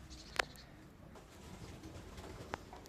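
Pigeons in a loft give soft, faint coos, with a brief sharp sound near the start and another short one near the end against a quiet background.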